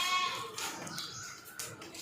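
A goat, a castrated two-tooth male, bleats at a livestock market in Orangi Town, Pakistan, giving a loud wavering cry at the start and again near the end over steady crowd and market noise.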